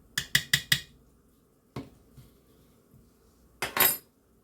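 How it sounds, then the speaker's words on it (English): A spoon clanks against a pot while sour cream is stirred into a Mexican rice dinner: four quick metallic knocks, then a lone clink and faint scraping, ending in a final louder clatter, close by with no talk. "So now we're going to add a little bit of sour cream."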